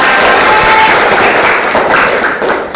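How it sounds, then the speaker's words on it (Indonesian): Pupils in a classroom clap for a classmate who answered correctly, a dense, steady burst of many hands close by lasting a few seconds before tailing off. "Tepuk tangan untuk Zakira."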